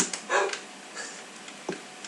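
Dogs in the Minecraft video game yip, bark and whimper in short bursts at close range, over a steady hiss of game background noise.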